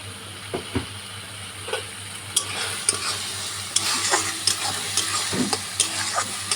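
Ground cumin and coriander frying in a pan for a chicken liver curry, with a steady sizzle and scattered scraping clicks of a spoon being stirred through the spices.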